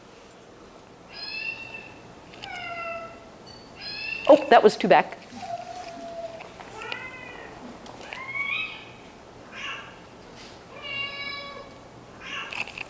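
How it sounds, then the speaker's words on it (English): Recorded cat meows played back in a listening experiment: a string of short, separate meows, moderately loud, with a brief speaking voice partway through. "imagine sitting in a scanner listening to dogs and cats doing this"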